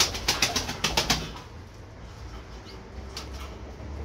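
Pigeons released from a rooftop terrace coop to fly, their wings giving a quick run of sharp flapping claps at the start before fading into quiet outdoor background.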